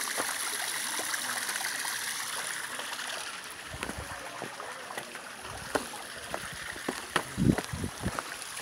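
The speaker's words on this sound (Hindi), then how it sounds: "ये पानी बहता हुआ कल कल करते हुए झरने, झरनों की आवाज़ आपको साफ सुनाई देगी।" Waterfall pouring between mountains, a constant hissing rush of falling water with scattered splashes and drips close by, steady and without talk.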